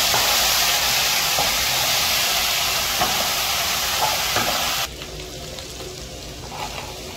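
Ginger garlic paste and cumin fry in hot oil with a steady, loud sizzle and a few soft stirring knocks, the hiss dropping abruptly to a quieter crackle near the end.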